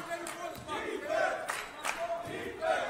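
A basketball crowd at a college game between Sheridan College and Central Wyoming College cheers and roars in swelling bursts, heard from the gym floor with some background chatter.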